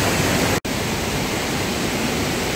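Waterfall cascading down beside a steep stair section of the Stawamus Chief Trail, a steady loud broadband rush that fills the clip, with one momentary dropout near the start.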